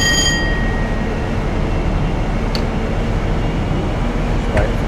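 A train rolls along the track in Train Simulator Classic, with a loud, steady rumble of wheels and cab noise. A faint squeak or click shows up near the end.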